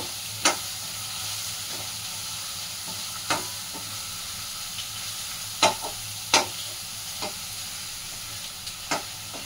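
Finely chopped onion fries over low gas in a pan, giving a steady close sizzle and hiss, broken by occasional sharp clicks and scrapes as the pieces are stirred, with no voices.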